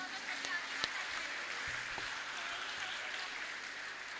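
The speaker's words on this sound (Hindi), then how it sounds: "ताली बजाओ।" Many children clap hands together at a school Independence Day celebration, a steady, dense patter of applause that holds for several seconds with a faint voice underneath.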